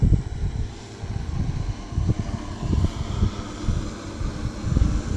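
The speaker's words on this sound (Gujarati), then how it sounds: "અને મિત્રો તમે ડ્રોનથી કોઈ પણ મોલમાં તમે દવા છાંટી શકો છો." An agricultural spraying drone works over a pigeon pea field, producing a loud, continuous low engine-like drone with pulsing, wind-buffeted rumbles throughout and no talking.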